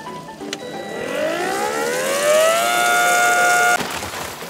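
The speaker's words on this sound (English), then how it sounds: "Just for fun, let's turn on this pump and see what happens, see how bad this is." A portable hot tub pump for RV or home use starts up with a loud whine that climbs in pitch, holds steady for a few seconds, then cuts off abruptly, with no one talking.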